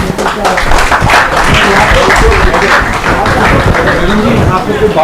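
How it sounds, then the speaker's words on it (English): Conference audience applauding steadily and loudly throughout, a dense wash of claps with a few voices mixed in. "Please round of applause for sir"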